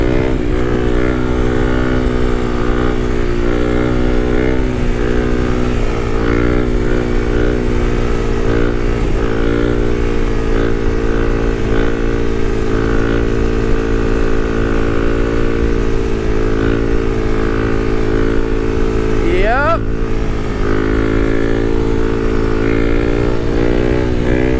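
Kawasaki KLX300 motorcycle pulling a third gear wheelie at about 40, with a loud, close, sustained engine drone under wind buffeting and a quick rising rev near the end.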